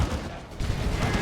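Dense, loud burst of Blastmaster fire from Warhammer 40,000: Dawn of War 2 battle, a continuous crackling blast filling the moment with no talking.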